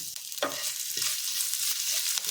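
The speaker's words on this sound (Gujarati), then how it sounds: "આદુ મરચાંને આપણે અહીંયા થોડું સાતળી લઈશું।" Ginger paste and green chillies sauté in a pan, giving a steady bright sizzle with a few soft scrapes of stirring, close and alone, with no voices.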